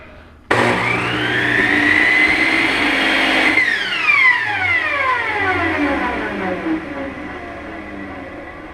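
A miter saw cuts through a board with a flat face and jointed edge: a loud close whine starts abruptly, holds through the cut, then winds down slowly as the blade spins to a stop.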